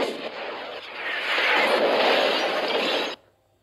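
Loud cinematic missile fire and blasts roar in a sustained rush with crackling debris, then cut off abruptly to near silence.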